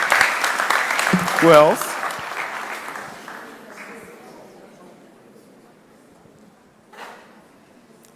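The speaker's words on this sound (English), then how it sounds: "Clap for him." A room of mentorship-session attendees claps briefly, the applause fading out over a few seconds as a voice speaks over it, followed by quiet and a single faint knock.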